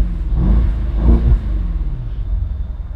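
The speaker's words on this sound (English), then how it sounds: "Yeah, let's rev it a little." A Mercedes S550 convertible's engine revs twice in quick succession, giving a loud, close, throaty rumble that climbs and falls back to a steady idle, with no talking.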